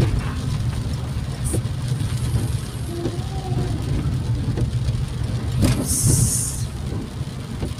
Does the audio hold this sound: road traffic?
yes